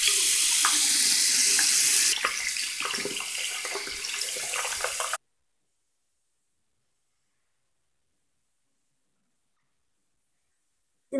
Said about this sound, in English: Now I rinse my face.